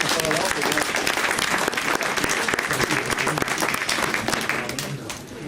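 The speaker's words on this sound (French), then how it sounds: "Je pense qu'on peut les applaudir." An audience applauds sponsors at a centenary gathering, with dense, sustained clapping filling the room and a few voices mixed in before it fades slightly at the end.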